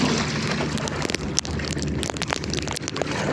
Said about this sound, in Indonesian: Wow, hujan badai.